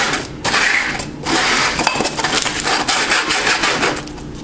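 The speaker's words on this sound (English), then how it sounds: "So you want to twist on your piece of sandpaper," Sandpaper twisted against metal parts of a homemade alcohol stove gives a loud, rough scraping and grinding, with bursts that stop briefly and then resume without any talking.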